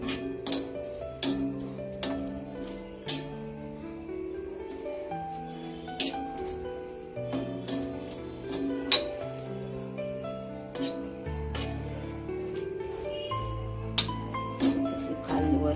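A spoon stirring bitter gourd in a pan over a high flame clinks repeatedly against the metal in an uneven rhythm, set against a steady tonal background.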